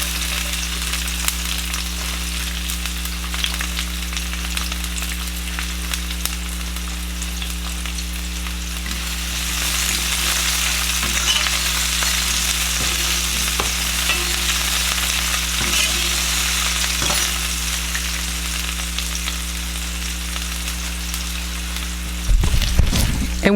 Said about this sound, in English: Next, I'm going to add some chopped onion.